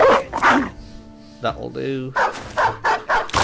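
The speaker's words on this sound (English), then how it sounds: "Got plenty of dogs there." Dogs barking in the Battle Brothers video game, a few sharp barks and yips around the middle, with someone talking before and after.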